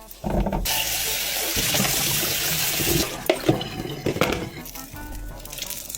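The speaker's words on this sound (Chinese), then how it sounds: "拿2瓶，简单洗一下，是有机的，随便洗一下就好。" Organic lettuce rinsed under a running kitchen tap, a steady loud rush of water splashing into the sink with clattering handling noises toward the end.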